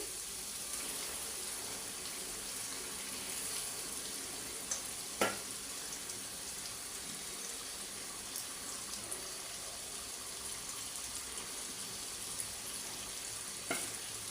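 Chicken pieces frying in a spiced masala make a soft, even hiss that stays fairly faint, with a couple of brief clinks along the way.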